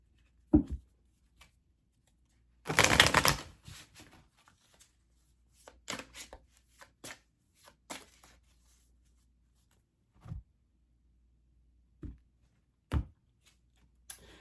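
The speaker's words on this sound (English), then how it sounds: "I just like to give those one shuffle before we do the love reading" A quick riffle of oracle cards being shuffled, followed by scattered soft taps and card handling sounds in a quiet room.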